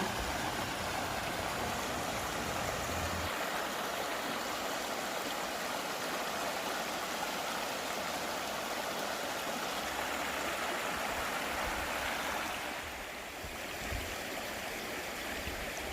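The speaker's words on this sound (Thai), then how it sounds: "น้ำใสๆไหลมาตามลำธารนะคะ" Steady rushing of a stream, water flowing continuously over stones close by, with no voices.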